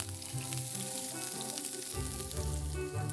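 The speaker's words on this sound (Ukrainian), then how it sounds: "Спочатку смажу цибулю ріпчасто." Onions sizzle steadily in a hot pan, a continuous close frying crackle with no voices.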